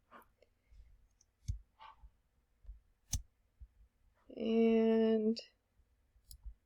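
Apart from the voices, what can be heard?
computer mouse clicking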